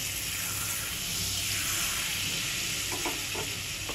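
Two spoons each of oil and butter heat in a pressure cooker for pav bhaji, giving a steady, close, dense sizzling hiss that holds evenly throughout with no voices.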